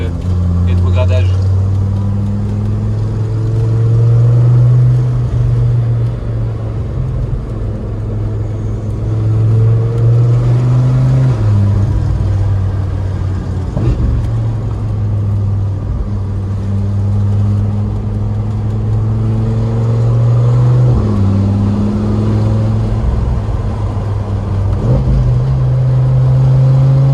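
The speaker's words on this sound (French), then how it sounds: "Il y a une petite déflagration à chaque rétrogradage." A 1010-horsepower hypercar prototype engine drones loudly and continuously, rising and dropping in pitch as it revs and shifts, with someone talking over it throughout.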